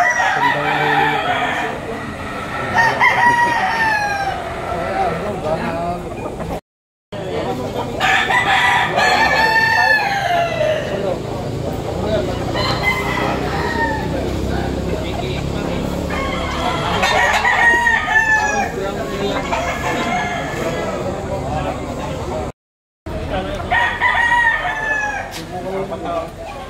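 Roosters at a poultry auction market crow repeatedly amid steady clucking and flock noise, loud and close, with crowd chatter and voices underneath throughout.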